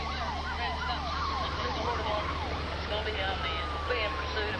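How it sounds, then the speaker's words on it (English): A police car siren wails in rising and falling sweeps during a high-speed pursuit of a brown sedan, loud and continuous over engine and road rumble. "We turned on red lights and sirens in an attempt to stop him."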